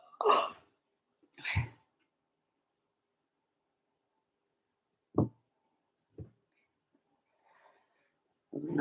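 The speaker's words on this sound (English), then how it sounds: "I'm going to have to wait until that burp works out." A few short, abrupt throaty bursts of burping or belching, spaced apart by long silences, quiet and close, with no talking.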